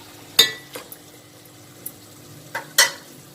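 A spoon works through cooked vegetables mixed with curd in a metal pot, scraping and clinking in a few sharp, spaced knocks amid quiet soft stirring.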